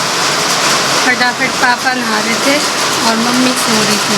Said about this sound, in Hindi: बारिश देखिए कितनी तेज़ आ रही है।